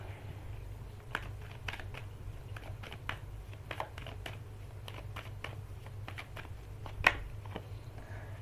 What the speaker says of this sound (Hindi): लेकिन मैं पहले कार्ड्स निकाल लूं सारे